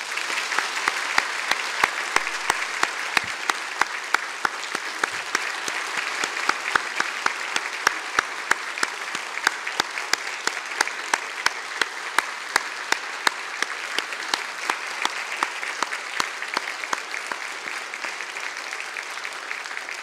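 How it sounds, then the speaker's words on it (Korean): A church congregation at a Sunday worship service applauds in encouragement, a steady, dense wash of many hands clapping that fills the room continuously for about twenty seconds. "격려의 박수 같이 하겠습니다"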